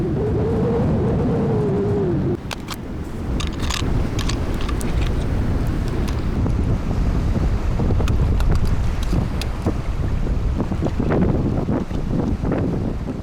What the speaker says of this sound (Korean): 이렇게 바람이 심하게 부는데도 굴 따라 나오셨네요